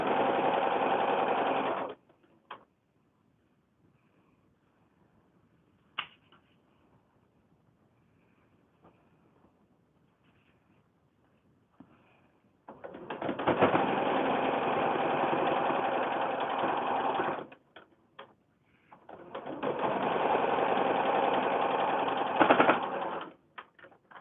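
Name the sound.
sewing machine stitching a foundation paper pieced block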